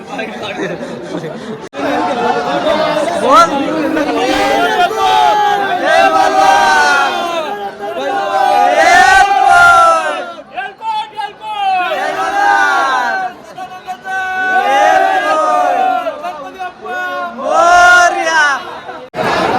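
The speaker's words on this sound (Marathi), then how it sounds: "इथं पण जाम गर्दी आहे" A dense crowd of pilgrims presses together at the Jejuri temple, with loud close chatter and overlapping voices and occasional shouted calls rising above the babble, in waves that continue throughout.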